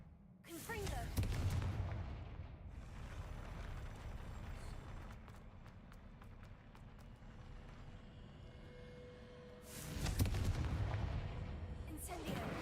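In the video game Hogwarts Legacy, a Confringo spell goes off with a deep rumbling blast, then fades into a long low rumble. A second loud boom follows near the end.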